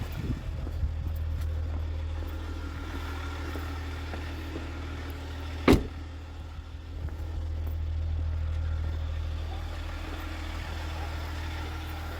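A Range Rover carrying firewood drives along, its low engine drone steady throughout with a brief sharp knock midway and no talk.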